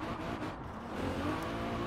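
A car drifting around a corner in the racing game Forza Horizon 4, a steady engine drone with tire noise in one brief continuous burst.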